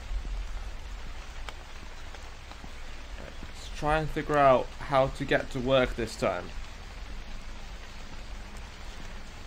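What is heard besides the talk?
rain in the video game The Convenience Store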